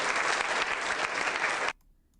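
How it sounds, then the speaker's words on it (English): Applause sound effect from a card-breaking app plays with its volume turned down, a dense burst of clapping that cuts off abruptly after under two seconds, leaving near silence. "That applause not as loud?"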